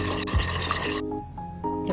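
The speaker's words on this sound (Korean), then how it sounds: "계란 2개를 깨뜨려주세요. 잘 풀어주세요." Two eggs are whisked in a bowl for a cabbage dish, making a close, continuous rasping swish that briefly pauses before it resumes, with music playing underneath.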